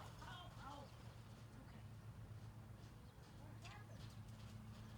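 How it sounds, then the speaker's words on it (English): Hooves of a horse next door clopping in a loose rhythm, with birds chirping and a low steady hum behind, no speech over it. "that horse next door"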